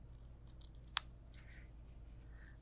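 A single crisp snip of gunked-up scissors, sticky with tape residue, cutting paper during a craft project, short and quiet against a faint room hiss.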